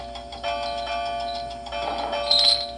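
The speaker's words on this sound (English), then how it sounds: "The bell chimed cheerfully as it was loaded onto Duncan's flatbed." A big bell being loaded onto a flatbed truck chimes in a steady, sustained ring with a few brighter strikes near the end, fairly close and clear, with no talking over it.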